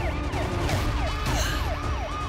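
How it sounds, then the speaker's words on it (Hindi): A wailing police siren sweeps up and down in a quick repeating cycle, steady and moderately loud over a low rumble. "पुलिस की गाड़ी का सायरन"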